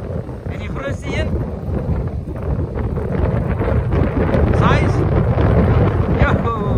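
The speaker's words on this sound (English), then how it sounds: "Hierdie wind nie." Wind roars steadily on a fishing boat at sea, a broad gusty rumble that grows slightly louder toward the end, with voices talking over it.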